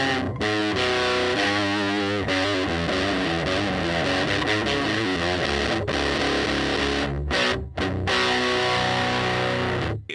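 An electric guitar through a distortion pedal plays the opening riff of a song, a loud, thick, fuzzy tone with sustained heavy chords and a few brief gaps near the end.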